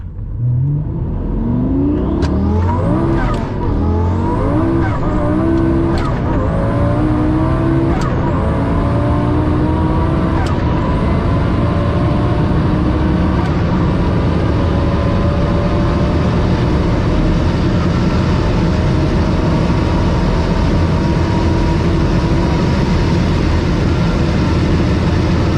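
A Lamborghini fitted with a home-built turbo system accelerates hard, its engine rising in pitch through several gear changes with sharp shift breaks, then holding a loud, sustained high-speed roar with heavy wind and road noise.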